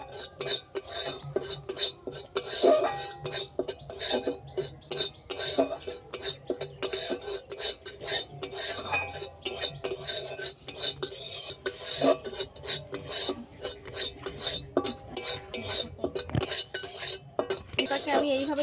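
Turmeric being dry roasted and stirred in a pan, giving a rapid, continuous rasping scrape of utensil on metal, loud and close, with faint talk now and then.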